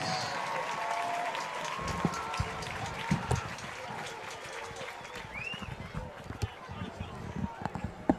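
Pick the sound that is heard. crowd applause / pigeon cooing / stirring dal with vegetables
crowd applause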